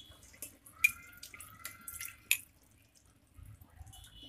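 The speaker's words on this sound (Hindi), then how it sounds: "इसको 2 बार हम ठंडा पानी से धो देंगे।" Cold tap water splashes and trickles over boiled noodles in a strainer, with a few brief, faint running and dripping bursts and quiet gaps between them.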